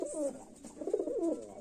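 Pigeons cooing in short, throaty warbling phrases, close and moderately loud, one bird repeating its call twice in quick succession.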